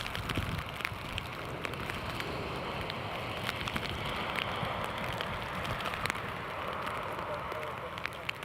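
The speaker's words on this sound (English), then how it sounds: "it's obviously very wet with the rain" Heavy rain pours down during Storm Lilian at Newcastle Airport, a dense, continuous hiss of rain on surfaces with scattered sharper drop hits close to the microphone.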